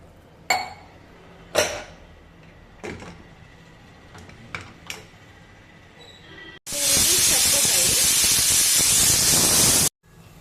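A pressure cooker cooking curry lets out a loud, sustained hiss of escaping steam for about three seconds, after several short clinks and knocks in a quiet kitchen.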